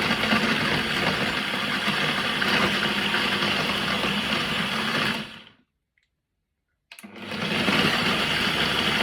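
Blender whirs steadily while mixing a peanut butter banana smoothie with chia seeds, cuts out abruptly for about a second and a half, then spins back up to a continuous loud whine.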